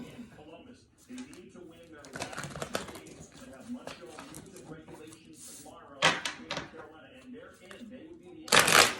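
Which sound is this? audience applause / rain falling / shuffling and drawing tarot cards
shuffling and drawing tarot cards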